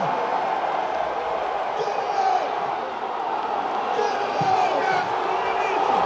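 Strongman competition crowd cheering on Brian Shaw during a lift at the Arnold Strongman Classic: a dense, sustained roar of voices with scattered shouts, heard from within the arena as a commentator talks.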